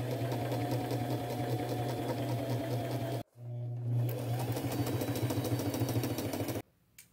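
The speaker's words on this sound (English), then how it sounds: "I'm going to use a fairly small straight stitch, stay close to the edges" A sewing machine runs a small straight stitch in gold thread, sewing flower and bird appliques close to their edges on designer jeans, with a steady close hum that pauses briefly midway and then resumes.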